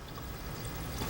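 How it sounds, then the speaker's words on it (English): Leftover silvering solution is dumped out of a corked glass flask, a short, continuous close pour of liquid with a steady gurgling wash and no pauses. "So pull off that cork and I'm gonna dump mine out"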